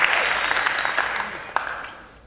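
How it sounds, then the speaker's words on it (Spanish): Applause from an audience at a sermon, a dense close patter of many hands that carries steadily, then thins and fades away near the end. "Si va a aplaudir, aplauda bien."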